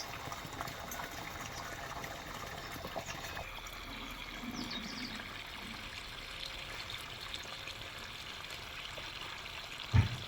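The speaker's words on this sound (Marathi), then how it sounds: "चिक्कूच्या झाडाला पाणी घालायला चिक्कूचं झाड पाणी घालायचं" Steady running water splashes and trickles throughout as a chikoo tree is watered, a soft continuous flow outdoors, ending with a single sharp knock.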